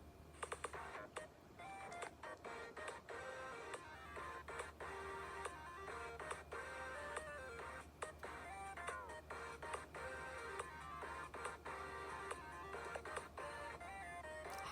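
Samsung Galaxy C4 ringtone "Future phone": a busy electronic pattern of quick clicks and beeping tonal notes in a steady rhythm, moderately loud, with no one speaking.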